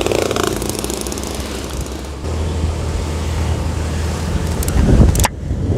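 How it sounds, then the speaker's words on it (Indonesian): A motorcycle is ridden slowly through town streets in Bukittinggi, its engine a steady close rumble with road noise and a brief louder burst near the end. "Jadi kita bawa motornya santai ya."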